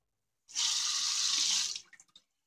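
A tap runs for about a second in a short hissing burst while a razor is rinsed during a shave, followed by a few faint drips and clinks.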